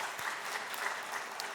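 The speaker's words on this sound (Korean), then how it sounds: "하나님께 영광 박수 올려드립니다" A church congregation claps briefly during a Sunday service, a short, even burst of applause heard from across the room.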